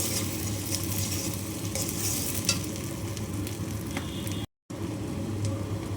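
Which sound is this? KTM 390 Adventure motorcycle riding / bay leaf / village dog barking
bay leaf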